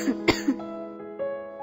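A woman in a kitchen with a persistent cough of some weeks coughs several times in quick succession, close and fairly loud, in short rough bursts followed by a fading throaty tail.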